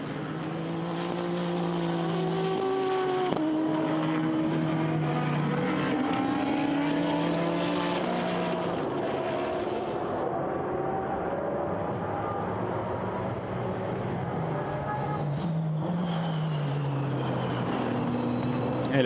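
GT race cars, including an SMP Racing Ferrari, a WRT Audi and a Nissan, racing at Silverstone in a Blancpain Endurance Series event: several engines droning and rising in pitch as cars pass, with continuous mid-distance roar.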